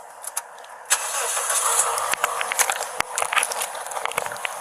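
A car engine cranks and catches, then runs roughly with clicks and rattles, fairly close during a nighttime police traffic stop.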